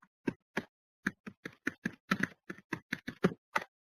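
Keystrokes on a computer keyboard entering a command in a Hadoop bin folder, about fifteen crisp close taps in uneven bursts with brief pauses between, no talking.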